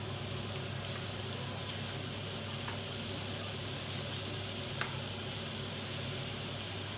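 Cauliflower steak sizzles steadily in butter in a pan with an even crackling hiss, and faint clinks sound now and then.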